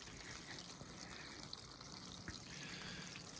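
Water trickles and pours steadily into a backyard ice rink liner, a faint, even wash of running liquid with no voices.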